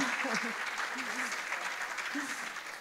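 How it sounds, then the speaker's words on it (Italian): Applause from an audience at a talk on family life during the COVID emergency, a steady wash of clapping with a few voices and laughter rising briefly above it. "ci va l'applauso"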